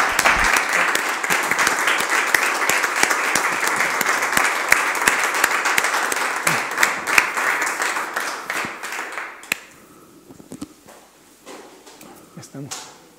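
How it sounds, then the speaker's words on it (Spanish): An audience at a talk applauds steadily for several seconds, then the clapping thins and fades to a few scattered claps amid faint room noise. "le damos un aplauso"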